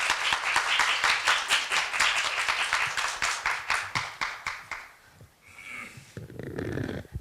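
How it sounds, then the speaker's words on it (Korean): An audience at a Korea University liberal arts festival claps in a lively, rapid burst that holds for about five seconds and then fades. Faint room sounds and a few late claps follow. "여러분 큰 박수로 맞이해 주십시오."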